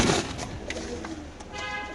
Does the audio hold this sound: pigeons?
yes